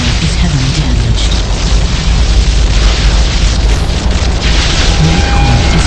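A core is destroyed in a team battle in the Unreal Tournament 3 Warfare game, with a dense, continuous rumble of explosions and booming blasts that stays loud and sustained throughout, with no pauses between.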